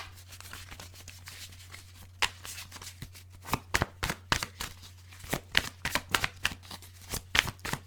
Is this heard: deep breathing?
no